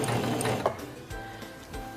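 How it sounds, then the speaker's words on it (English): A sewing machine runs briefly in reverse, putting in a few backward stitches with a close, soft mechanical whir and rhythmic clicking. "press and hold the reverse lever, and sew backwards a few stitches"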